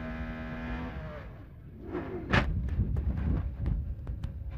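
IndyCar race car onboard at Texas Motor Speedway during the 1999 race, engine roaring loud and close, with a steady drone that shifts pitch then breaks into a rough, pulsing rush of wind and mechanical noise.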